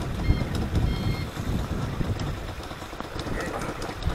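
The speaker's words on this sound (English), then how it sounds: "This is a different sized boat than we normally come on." A boat engine idles at Moalboal in the Philippines, a steady low rumble close by with wind buffeting the microphone and light water noise.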